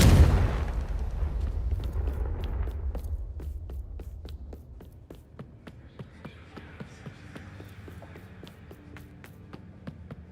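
A Confringo spell blasts off in Hogwarts Legacy with a loud booming burst at the start that decays over a few seconds, followed by a string of sharp, regularly spaced cracks and pops that continue at a moderate level.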